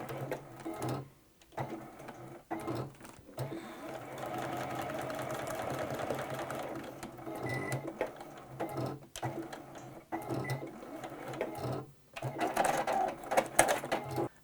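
Sewing machine stitching a vinyl zippered box pouch, running in short bursts with pauses between, a quick whirring mechanical chatter at moderate volume, close by.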